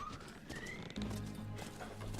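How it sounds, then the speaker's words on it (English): Galloping horse hooves in Call of Juarez thud as a soft, steady clip-clop under quiet background music, faint and continuous. "Trying to do like the Mongols while riding the horse"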